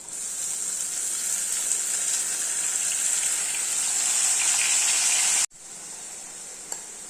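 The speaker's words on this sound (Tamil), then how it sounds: "நம்ம அரைச்ச தக்காளியை ஊற்றிக்கலாம்." Blended tomato poured into a pan of cooking manathakkali gravy, a loud continuous sizzling hiss that holds steady for about five seconds, cuts off abruptly, then resumes more softly.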